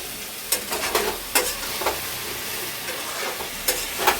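Eggplant fritters sizzle in a pan while a utensil stirs and scrapes at them, making sharp irregular clinks over a constant frying hiss, close by and with no voices.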